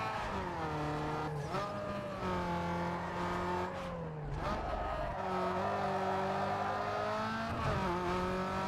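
Race car engine in Need for Speed Underground 2, revving hard and shifting up through the gears with rising and falling pitch sweeps, loud and close, with brief tire squeal.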